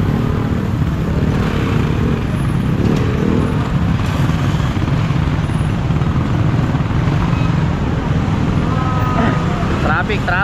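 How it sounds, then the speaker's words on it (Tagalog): Continuous road traffic noise, a steady rumble of passing vehicles and engines, fairly loud and close throughout. "Traffic."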